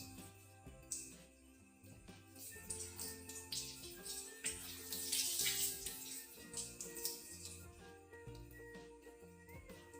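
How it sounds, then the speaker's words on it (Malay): Water runs and splashes steadily as a sanitary pad is rinsed with clean water, a continuous faint trickle with brief surges and no voices. "Bilas tuala wanita dengan air bersih sekali lagi."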